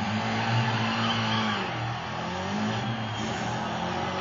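A car engine in a racing video game played on a Dell XPS M1730 laptop, a steady droning roar that eases slightly midway, fairly loud with no talk.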